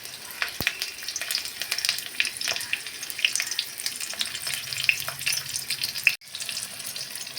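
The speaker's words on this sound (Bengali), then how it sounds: "কড়াইয়ে যে তেলটা থাকলো ওর মধ্যে আমি ফোড়নটা দিয়ে দিলাম। 5 ফোড়ন, তেজপাতা, শুকনো লঙ্কা, দুটো কাঁচা লঙ্কা।" Panch phoron, a bay leaf, dried red chillies and two green chillies crackle and sizzle in hot oil in a kadai. The spitting is steady and close, with occasional stirring and a brief drop-out near the end.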